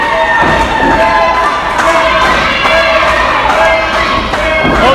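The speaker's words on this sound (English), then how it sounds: "This crowd wants to see Marino get that tag" A wrestling arena crowd cheers and shouts loudly during a tag-team match, a dense roar of voices with high-pitched yells and occasional thuds from the ring, sustained throughout.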